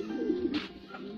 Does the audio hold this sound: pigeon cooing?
yes